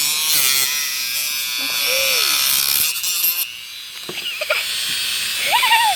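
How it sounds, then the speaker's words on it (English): A Dremel rotary tool sands the edge of a fiberglass door panel with a high, gritty whine that runs steadily for several seconds, then drops away into quieter scraping and brief tonal squeaks. "I'm gonna use my Dremel to sand all this stuff down right now"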